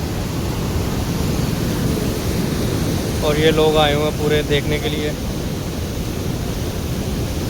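Flood water rushes loudly through a ravine stream, a dense steady roar filling the whole clip while someone talks briefly over it in the middle.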